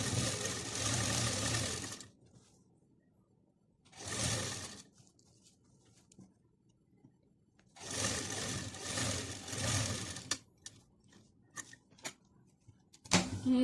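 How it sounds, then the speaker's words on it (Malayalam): A sewing machine stitches a kurti sleeve in short separate runs: a two-second burst, a brief one, then a longer run followed by a few quick stitches, close and clear with quiet gaps between. "അപ്പോൾ ഞാൻ രണ്ടാമത്തെ സ്ലീവിൻ്റെ വൈഡിൻ്റെ അവിടെ മാർക്ക് ചെയ്തിട്ട് സ്റ്റിച്ച് ചെയ്ത് തുടങ്ങുകയാണ്"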